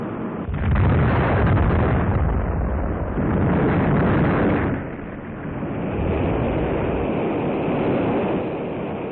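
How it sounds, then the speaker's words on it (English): A deep, rumbling roar swells and fades in waves as a Centaur rocket explodes after launch, echoing far off, with no voices present. "The immediate cause of the explosion is not known"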